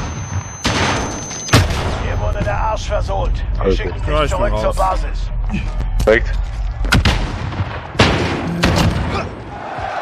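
Gunfire in the multiplayer match of Call of Duty: Black Ops Cold War, with loud, sharp shots and blasts breaking out at intervals under someone talking in German, with rumbling combat noise between them.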